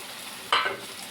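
Tomato paste sautéing in a pan for an okra tamarind curry gives a short, sudden burst of sizzling and stirring that fades back into quiet kitchen hiss.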